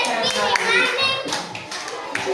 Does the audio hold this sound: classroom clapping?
yes